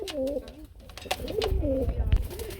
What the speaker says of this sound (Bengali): এখানে এক পিস সিঙ্গেল কবুতর দেখতে পাচ্ছি